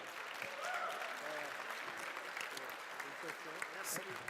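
An audience applauds a player at a Super Smash Bros. Melee gaming tournament, a steady wash of moderate clapping held for several seconds in an indoor venue.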